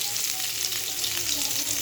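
Pointed gourd frying in a large amount of oil, a steady close crackling sizzle with faint bubbling, continuous and without speech.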